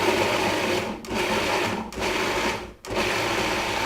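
Garbanzo beans for hummus pulsed in a food processor: a loud, steady whirring motor in three close bursts, each separated by a brief dip where the blade stops and restarts.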